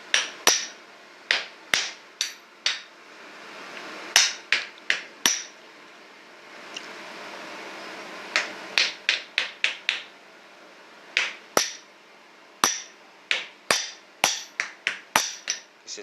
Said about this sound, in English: This is just a small pinhead hammer.